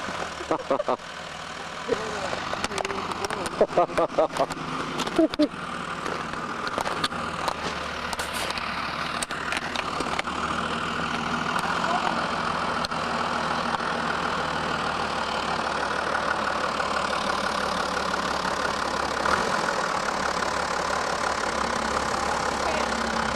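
Tractor engine idling outdoors, a steady low chugging rumble under intermittent talk, with some clattering knocks early on.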